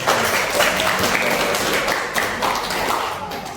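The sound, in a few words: students applauding classmate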